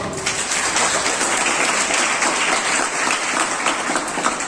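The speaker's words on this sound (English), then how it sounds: "So please give him a big round of applause for him." An audience at a school event marking a tree-plantation occasion gives a big round of applause: a thick, even roar of many hands clapping, sustained for several seconds with no pause.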